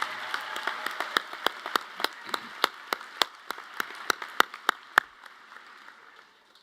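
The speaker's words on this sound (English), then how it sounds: "let's give a round of applause to all of those who helped along the way" Graduates and guests at a college commencement ceremony clap in sparse, distinct individual claps spread across several seconds, moderately loud, then fade out.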